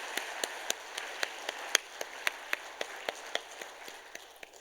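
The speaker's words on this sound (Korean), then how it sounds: "우리에게 큰 은혜와 도전 주신 우리 안옥섭 장로님께 우리 감사의 박수 다시 한번 하겠습니다" A church congregation applauds at a Wednesday evening worship service after a guest elder's special lecture: a steady wash of clapping with sharp, evenly spaced individual claps standing out at a moderate level.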